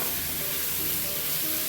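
Crushed ginger, garlic and spice mix frying with chicken in a pan, a steady close, even sizzle with faint stirring throughout and no talk.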